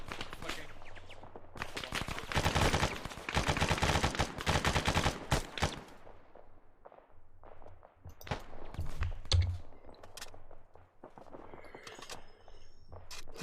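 Gunfire in a video game mission with the People's Army of Livonia: dense bursts of automatic fire for several seconds, then scattered, sharper shots and thumps, fairly close and loud.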